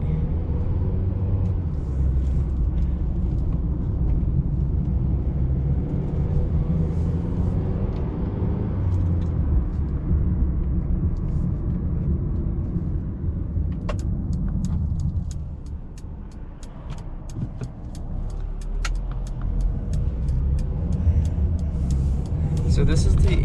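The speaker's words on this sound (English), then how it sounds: "let's start driving it. The Mercedes A220" A 2019 Mercedes-Benz A220 drives along with a steady low cabin rumble of engine and road noise, heard from inside the car, with a brief dip in level midway before it builds again.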